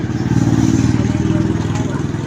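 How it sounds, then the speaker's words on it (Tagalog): A water pump motor runs steadily nearby, a loud, continuous mechanical hum with rhythmic low pulsing, like a small engine, throughout the short stretch. "Yung motor ng pampatubig."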